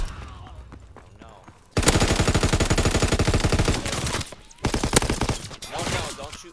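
Rapid machine-gun bursts in Call of Duty: WWII, loud and close, in two long sustained volleys with a short pause between, followed by scattered shots, with a voice talking under the fire.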